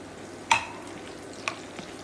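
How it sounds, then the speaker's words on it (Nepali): Onion with ginger, garlic and chilli fries quietly in oil for thukpa, a faint low sizzle punctuated by two sharp spoon-against-pan clicks, with no talking. "त्यसपछि प्याज राखेर राम्रोसँग भुट्नुपर्छ।"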